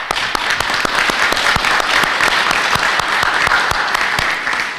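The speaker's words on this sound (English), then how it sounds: "give them a round of applause" A small audience at a town selectmen candidates' meeting claps for part-time staff and volunteers, a steady round of applause that carries on evenly to the end.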